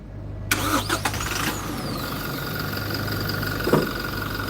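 A car engine cranks and fires up with a loud broadband burst, then settles into a steady idle hum, with a brief extra rev or clunk near the end.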